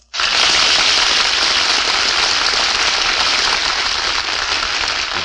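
A studio audience at a radio show breaks into loud, sustained applause that starts abruptly and holds steady as a dense wash of clapping, with no talking over it.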